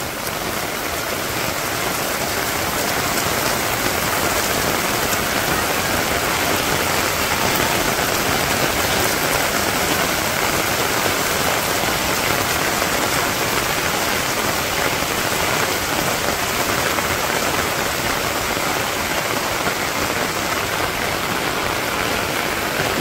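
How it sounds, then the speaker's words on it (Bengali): Heavy rain pouring down over a village, a dense unbroken hiss of drops that stays loud and even throughout, with no voices. "এখন আবার সুন্দর বৃষ্টি নামছে।"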